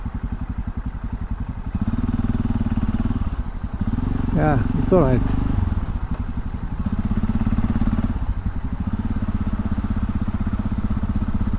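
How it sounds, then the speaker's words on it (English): Yamaha XT660Z single-cylinder motorcycle engine heard from a helmet camera while riding, a steady low drone with rhythmic pulsing throughout, briefly masked by wind and a short spoken remark mid-clip. "I hope you will be able still to hear the engine noise"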